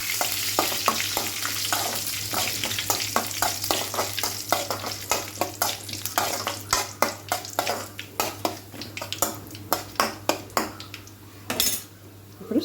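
Curry leaves crackle and sizzle in hot oil while a spoon stirs the pan, tempering for a mango chutney; a steady frying hiss runs throughout, punctuated by frequent close metallic scrapes and clinks of the utensil against the pot, with no talking.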